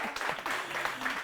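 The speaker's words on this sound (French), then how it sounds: "Est-ce qu'on peut applaudir à Esther?" A small audience applauds Esther after a game at a French event, a brief burst of clapping with some voices mixed in.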